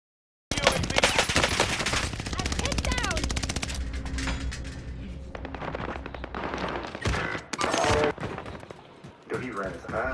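Rapid automatic gunfire in a Warzone match with the H4 Blixen, loud bursts rattling close by, pausing briefly and resuming, with a player talking over the shooting.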